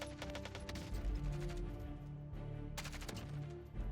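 Rapid gunfire from a kill in the video game Warzone, dense repeated shots layered over game music and effects, fairly faint overall.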